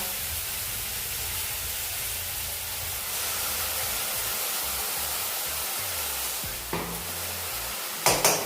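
Onion and garlic paste stirred and frying in a pan for a chicken curry with capsicum, a steady hiss of sizzling oil with brief louder scrapes near the end.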